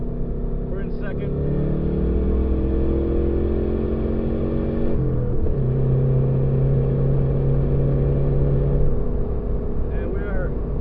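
Car driving at about 35 mph in second gear after a transmission swap, engine droning steadily and loud throughout with a brief dip in pitch midway, while people talk over it.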